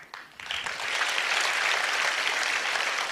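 A lecture audience breaks into sustained applause, a dense, even clatter of many hands clapping that swells quickly and holds steady, heard from within the hall with no speech.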